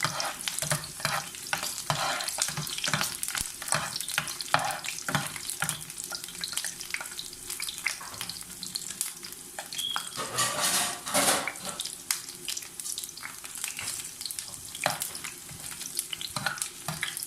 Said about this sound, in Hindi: हल्का सा मैं इसको फ्राई करूंगी, हल्का सा ये गुलाबी हो जाएगा